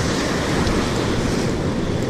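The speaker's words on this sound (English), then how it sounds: "The waves are freaking huge today." Large ocean waves, around 5 to 7 feet, break in the surf on the Oregon coast, a steady loud wash of churning water with wind, no talking.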